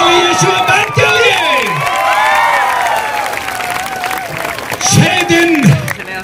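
A concert crowd in Ranchi greets the band with loud cheering, whoops and clapping, high shouted voices rising and falling throughout, then a fresh burst of yells near the end.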